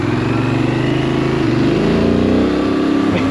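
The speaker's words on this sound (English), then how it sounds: "the grunty noise that it's coming from the exhaust" A Benelli 752S motorcycle engine revs hard up close, its exhaust giving a deep, throaty growl that rises and falls steadily.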